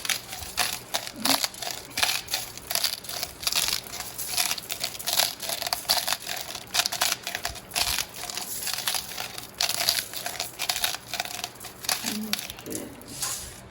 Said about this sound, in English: I am going to put a little salt. And this is my pink salt grinder